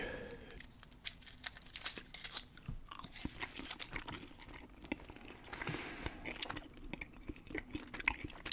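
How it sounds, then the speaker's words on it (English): Close-up gum chewing recorded for ASMR, with wet, crunchy smacks and clicks repeating in a loose, irregular rhythm throughout, intimate and near the microphone with no talking. "Doing a gum chewing"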